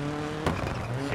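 A rally car in the DiRT 4 racing game revs hard as it pulls away, a steady engine drone with a short burst of tyre and gravel noise. A voice speaks over it briefly.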